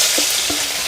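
Crushed garlic drops into a hot pan of oil with dried chillies and bay leaf and starts frying with a short, bright sizzle, a stirring scrape breaking in briefly.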